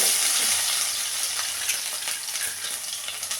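Mustard seeds and crushed ginger sizzle steadily in hot oil for a small-fish curry, a close, continuous frying hiss with light crackles and pops and no voices.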